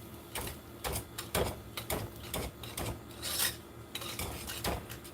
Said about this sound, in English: And I'm going to keep whisking this until it is like a golden brown color